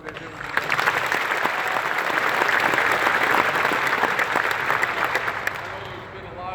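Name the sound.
applause for the coaching staff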